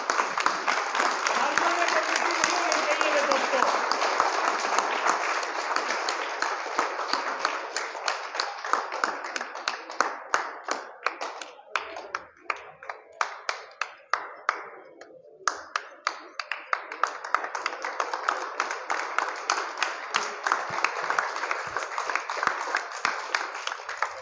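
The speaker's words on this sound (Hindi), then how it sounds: "जोरदार तालियां" Crowd applause at a turban honouring ceremony in an old age home in Kaimri village as the guru receives a badge; dense clapping thins to scattered individual claps midway, then swells again, with voices mixed in.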